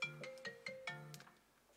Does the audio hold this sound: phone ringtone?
yes